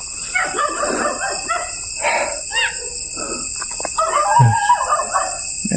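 A dog barks repeatedly at night in the Philippines, sharp irregular barks and yips at moderate distance over a steady high insect or electrical whine, with no talking.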